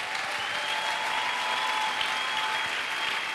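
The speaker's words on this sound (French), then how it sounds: "Est-ce qu'on peut offrir à ce Dieu une bonne acclamation?" A church congregation breaks into steady, even applause during a French-language worship service, a dense wash of clapping heard from within the room that holds constant for a few seconds without a voice over it.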